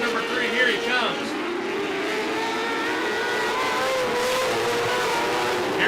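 Race car driving through turn 3 off the backstretch, its engine whining with shifting pitch as it passes, fairly loud and continuous, with a commentator talking over it.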